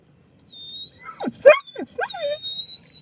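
Small dogs yip, whimper and whine in short rising and falling bursts, close and fairly loud, with no talking.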